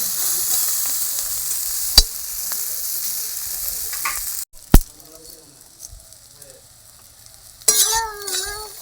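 Taro stolons fry gently in hot oil, a steady close sizzle with light stirring and a couple of sharp knocks. Then the sound cuts off and brief voices follow.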